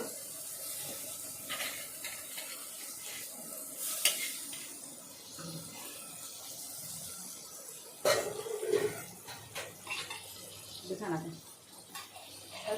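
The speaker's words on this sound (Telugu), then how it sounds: "ఏదో చెరువు చేపలు వేస్తున్నాను." Pond fish go into hot oil with brinjal being fried for a curry, and the oil sizzles and crackles steadily throughout with occasional stirring clatter and brief speech.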